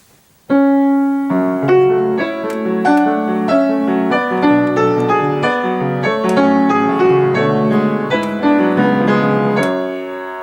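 Solo piano plays a flowing, chordal Brahms passage with several voices moving together and the melody in the middle register, rich and sustained after a brief pause at the start.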